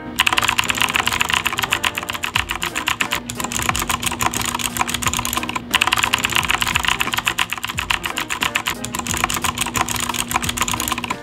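Mechanical keyboard fitted with O-rings typed on at a brisk steady pace, dense clacking keystrokes close to the microphone, with two brief pauses, no talking.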